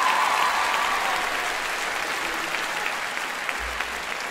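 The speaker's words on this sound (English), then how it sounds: "Let's give him a round of applause." Sustained applause from a crowd at an awards gala, dense and steady, gradually easing slightly in volume.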